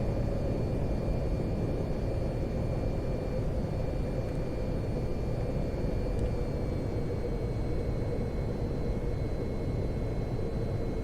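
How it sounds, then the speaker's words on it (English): Helicopter in the VTOL VR flight game: a steady, dense rotor-and-engine drone holds at an even level throughout, with no pauses and no talk. "The helicopter does look wicked."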